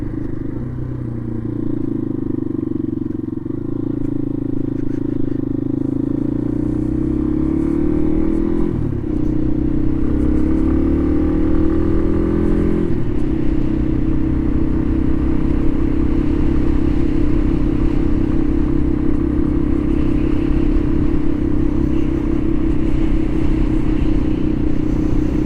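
A 2012 Yamaha XT250 motorcycle in fifth gear at about 35 miles an hour, its engine droning steadily up close with rising pitch shifts partway through, then a sustained even hum under wind noise.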